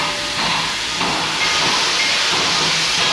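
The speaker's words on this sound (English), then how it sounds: "trains coming my way, as you can see, and blowing off steam" Steam train blowing off steam at a steam festival, a loud continuous hiss that swells slightly partway through and holds steady to the end.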